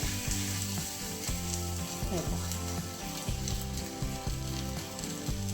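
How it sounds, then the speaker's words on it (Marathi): Bun dosa batter frying in oil in a pan, a steady close sizzle running throughout with no talk, over a quiet musical background. "त्याच पॅनमध्ये आपल्याला तेल ॲड करायचं आहे आणि जे आपण बॅटर बनवलं होतं त्याच्यामध्ये ॲड करू"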